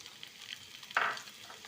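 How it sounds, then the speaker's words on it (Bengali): Fish and egg fry in a pan with a soft, faint sizzle, broken by one sharper stirring scrape near the middle that fades back into the gentle crackle. "এবার এটাকে সব কিছুকে একসাথে সুন্দর করে ভেজে নেব"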